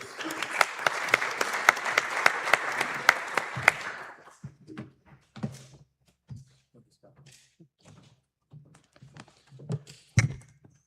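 At an AI conference, an audience gives warm, dense applause to welcome a speaker to the stage. The clapping lasts about four seconds before tapering into scattered claps, thumps and footsteps.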